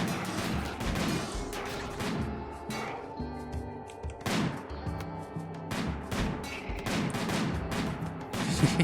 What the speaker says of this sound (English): The sniper rifle fire of death.